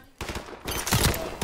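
Gunfire in the video game Modern Warfare Remastered: a quick cluster of close, loud shots rattles out in rapid bursts across a moment of multiplayer action.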